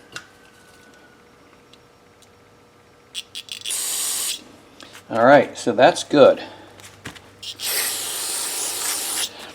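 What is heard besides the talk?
aerosol spray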